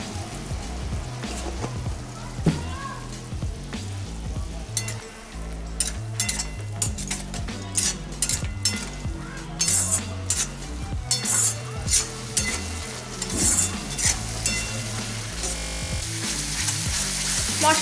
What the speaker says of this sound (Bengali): এখন এই মশলাটাকে ভালো করে কষিয়ে নেব।